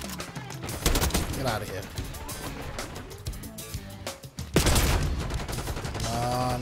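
Gunfire in Call of Duty Black Ops 6, dense bursts of rapid shots and explosions running throughout, loud and close, with someone talking over the action.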